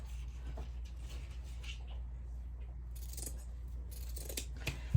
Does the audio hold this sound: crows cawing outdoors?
no